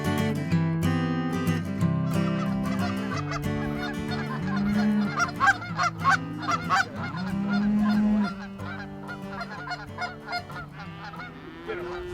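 Many geese honk overhead in flight during a goose hunt, a dense, loud chorus of overlapping calls that swells and dips over about twelve seconds.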